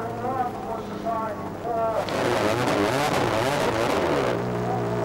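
Peugeot 206 rally car driving flat out on the Margam special stage of the 2003 Wales Rally GB, its engine roaring and revving continuously under excited commentary.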